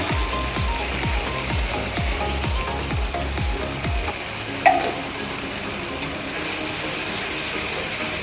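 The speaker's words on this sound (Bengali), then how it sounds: "এটা একটু দিয়ে ভালো করে কষিয়ে নেব।" Poppy seed paste with green chili, salt and turmeric sautéed in a pan, rhythmic scraping strokes of a spatula over a constant sizzle, then one sharp knock before the frying continues alone.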